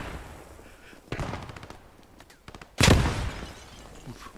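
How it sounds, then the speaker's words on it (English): Gunfire and a rifle grenade blast in a World War-style multiplayer battle game, a few sharp shots followed by a loud, heavy explosion near the end, with ambient battlefield noise between. "I think he has tried to use a rifle grenade."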